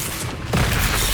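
A Confringo explosive spell going off in Hogwarts Legacy: a short hissing wash, then a sudden low boom about halfway through, loud and close, with no talking.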